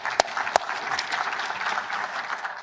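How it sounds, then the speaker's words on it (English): An audience at a space policy summit applauds, a short burst of steady clapping with two sharp close claps near the start. "Let's have a round of applause for Valda."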